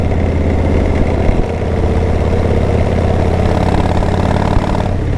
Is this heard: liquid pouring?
no